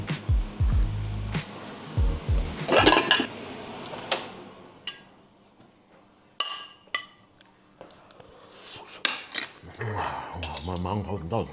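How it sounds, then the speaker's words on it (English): Cutlery and plates clink while a seafood meal of barramundi fillets, prawns and crayfish is plated up. Scattered bright metallic taps and scrapes come in irregular clusters, close by, with occasional low background noise between them. "Excuse the mess, but we're just plating up here."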